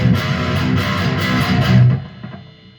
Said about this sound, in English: where it kind of like alternates immediately from palm mute to open.